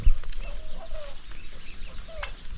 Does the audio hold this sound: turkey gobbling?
yes